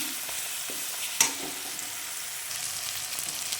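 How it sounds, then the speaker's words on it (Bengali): Turmeric sizzles in hot oil in a pan while being stirred for a spicy pabda fish curry, a steady broadband crackle with one sharp utensil scrape, close and without talk. "তেলের মধ্যে হলুদটা দিয়ে দেবো না হলুদের গন্ধটা চলে যাবে একটু হলুদ দিয়ে ভালো করে নেড়ে নিয়ে"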